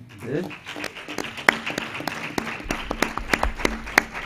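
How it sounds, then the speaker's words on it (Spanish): A small audience at a university final-year project defence gives a brief round of applause, the claps sparse and uneven, while a voice talks over them throughout. "Le vamos a dar un aplauso, está bien, ¿no?"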